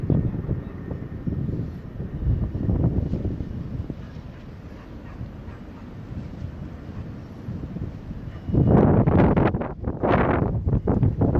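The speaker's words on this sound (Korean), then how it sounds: "바람이 강하게 불어서" Strong wind roaring during the Andong wildfire near Namhu, buffeting the microphone in a continuous rumbling wash that swells into louder gusts toward the end.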